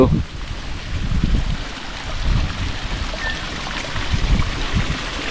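A strong stream of water rushes steadily beside wide rice paddies in Tayabas, flowing on into a fishpond, with a broad continuous wash that swells and eases throughout.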